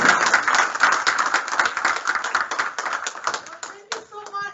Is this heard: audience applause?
yes